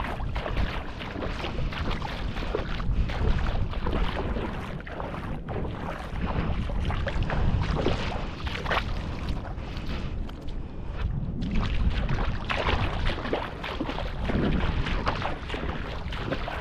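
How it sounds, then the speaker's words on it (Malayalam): Strong wind sweeps over the open paddy fields of Kuttanad, making a loud, continuous rushing roar that buffets the microphone throughout, with no speech. "നല്ല കാറ്റ്."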